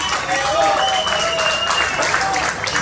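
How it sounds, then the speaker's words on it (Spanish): A crowd claps loudly and steadily at a rock show in La Bestia Bar, with the dense applause running the whole time and a voice sounding over it. "Un aplauso grande."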